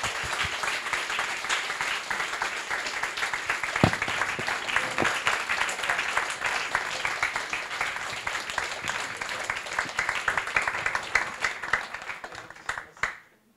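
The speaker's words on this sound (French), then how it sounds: "Vous pouvez applaudir si vous voulez." An audience applauds after a conference lecture on capitalism and the commons, steady moderate clapping from many hands that carries on for several seconds before thinning out and dying away at the end.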